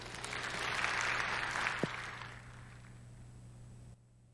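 Conference audience at AWS Summit Seoul 2023 applauds to welcome a speaker; the clapping is faint and distant, swelling briefly before tapering off into quiet room tone.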